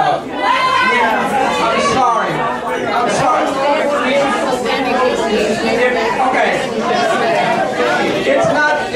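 A packed zoning ordinance meeting fills the room with dense, loud crowd chatter, many overlapping voices talking at once without pause.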